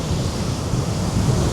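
Big waves crash and roar on a windy seafront at Norbreck, a loud, continuous surge of surf mixed with gusting wind buffeting the microphone.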